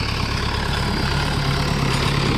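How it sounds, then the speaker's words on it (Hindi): A tractor's diesel engine rumbles loudly and steadily close by as it drives past on a farm in Italy, a thick low drone with no voices. "ये देखो ये ट्रैक्टर जा रहा है"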